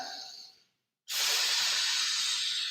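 Slow breathing through the nose during a rounded-back core exercise: a soft hissing breath fades out, a brief silence follows, then a strong, steady airy exhale or inhale close to the microphone.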